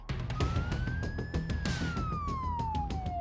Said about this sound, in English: Sally and Olivia are now on their way, lights and sirens.